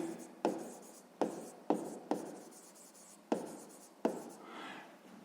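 Pen or pencil writing out a sixth-grade probability math solution on paper, a series of six distinct scratchy strokes starting sharply and trailing off, close and fairly quiet, with no talk.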